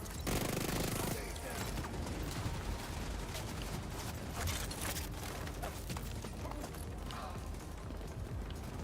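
Rapid automatic gunfire from The Division 2 during a Year 5 Season 2 invaded-map match, loud and dense with bursts throughout, while someone talks over it.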